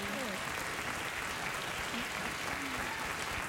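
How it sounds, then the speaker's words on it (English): A late-night talk show studio audience applauds in a steady, dense wash of clapping, with talk faintly underneath. "I don't understand why people applaud that."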